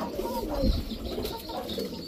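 Pigeons cooing close by, soft low throaty coos with faint chirps over a busy background murmur.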